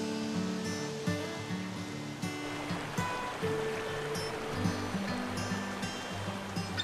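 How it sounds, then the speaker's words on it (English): Spring water flowing out into a creek at Barton Springs, a steady broadband rush of moving water that fills the whole stretch evenly, with faint tonal hum in the background. "See the water flowing out into the creek here."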